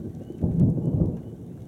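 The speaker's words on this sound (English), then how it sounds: "There's the thunder." A deep, low rumble of thunder from a distant lightning strike on the outback horizon swells and rolls for over a second before fading, distant and heavy, with no voices.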